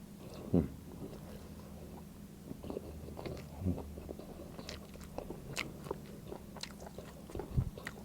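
Crunchy fermented pork skin (naem) bitten and chewed close up, with a few sharp crunches standing out against soft ongoing chewing, and no talking.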